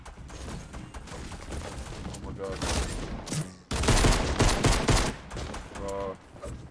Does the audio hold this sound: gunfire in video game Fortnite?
yes